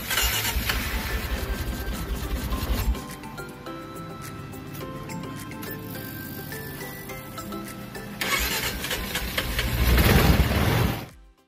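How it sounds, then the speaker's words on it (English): A KLR650 motorcycle engine with a fresh battery cranks and starts with only slight grumbling, then settles into a steady mid-pitched idle that swells louder near the end, close by with no talk over it. "After installing a new battery, my bike started up with little grumbling"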